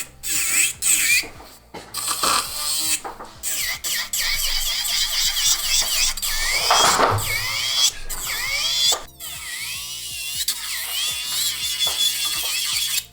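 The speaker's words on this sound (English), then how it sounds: "I'm going to use the electric file on this one." Electric nail file fitted with a purple Swarovski ceramic bit, giving a continuous high-pitched whirring with rapid ratcheting clicks and pitch sweeps as it presses and lifts, loud and close throughout.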